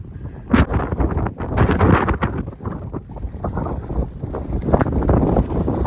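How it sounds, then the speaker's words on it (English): Gusty wind buffets the microphone on an open ridge along the Coyote Wall Trail in the Columbia River Gorge, a loud, uneven roar that rises and falls in strong bursts throughout. "Bit windy up here."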